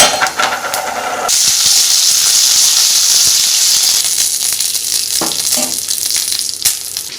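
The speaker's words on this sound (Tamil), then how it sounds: "எண்ணெய் சூடானதுக்கப்புறம் கடுகு போட்டுக்கோங்க." Mustard seeds hit hot oil in a pan while making puliyodharai tamarind rice, bursting into a bright, steady sizzle and hiss after a second of clattering, with scattered pops and crackles continuing close by.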